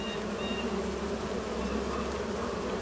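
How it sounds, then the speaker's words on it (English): Bees buzzing around hives on a farm in Farming Simulator 25, a dense continuous drone of many insects heard close and steady with no voices. "Ah, the bees are back."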